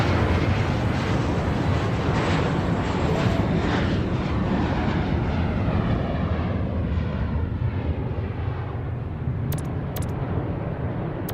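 Jet aircraft taking off in the airport-control game Airport Madness, a loud continuous roaring engine rush that slowly fades as the plane climbs away, with a couple of brief clicks near the end.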